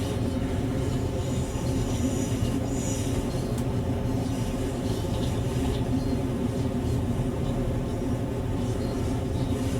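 Train crawling slowly through a tunnel in Train Sim World 5, a continuous dense rumble with rattling wheel noise, loud and steady for the whole stretch with no breaks.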